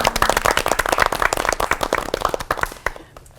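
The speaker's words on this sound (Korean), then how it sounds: "박수 한번 주세요" A church program audience claps in a brisk burst of applause that fades out toward the end, with no talking over it.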